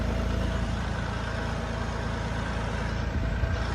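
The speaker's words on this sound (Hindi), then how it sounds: "साथ साथ में रोटावेटर इसलिए चलवा रहे हैं ताकि जो मिट्टी है वो थोड़ी और बारीक हो जाए" A tractor pulls a rotavator through a farm field, giving a steady, loud, low engine drone that holds without a break and has no voices over it.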